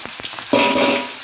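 Food frying in a pan, a continuous bright sizzle that swells louder as more goes into the hot oil, with a few light clicks at the start.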